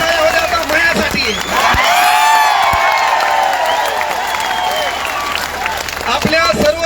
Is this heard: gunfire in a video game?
no